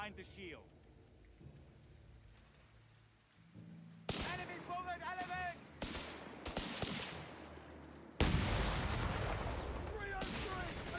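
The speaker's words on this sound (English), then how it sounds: "AT guns under fire." Gunfire rakes anti-tank gun positions in Company of Heroes 3, with bursts of shots and loud impacts mixed under a commentator's voice and growing louder toward the end.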